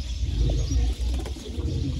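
Sialkoti pigeons, a prized breed, cooing in a low continuous rumble close by, with a steady murmur of coos running through the whole stretch and no talk.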